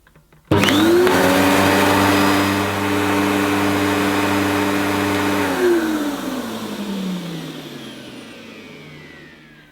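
A mid-1990s Electrolux Contour Chic upright vacuum cleaner starts with a loud whine and runs at a steady roar during a suction test at the hose end. The pitch drops partway through and then keeps sounding.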